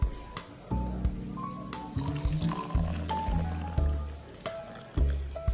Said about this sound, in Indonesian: lalu kita tambahkan air hangat